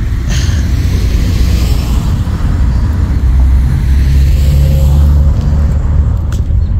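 Loud, steady low rumble of cars on a road passing close by, a continuous roadway drone with a faint whoosh as a vehicle goes past, no voices.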